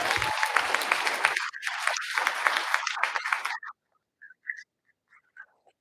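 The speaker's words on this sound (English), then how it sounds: "Let's give a big round of applause for Patrick." Audience applause for a guest named Patrick at a real estate interview event, a dense burst of clapping lasting about three and a half seconds before cutting off, followed by a few faint scattered sounds.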